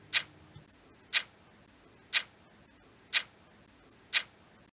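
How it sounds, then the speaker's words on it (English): Clockwork ticking generated from prime numbers, five sharp evenly spaced clicks about one second apart, crisp and close against a quiet background. "What you hear now is the Tic Tac Clockwork caused by prime numbers."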